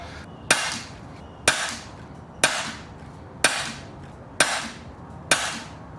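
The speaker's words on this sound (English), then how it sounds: "I'm shooting a little bit fast." An air gun fires hard lead pellets with bent skirts, six sharp, evenly spaced shots about one second apart, each a crisp crack with a short decaying tail.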